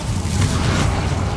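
Bombarda spell blast in Hogwarts Legacy, a loud, dense, booming explosion with a rumbling low end that fills the whole moment without speech.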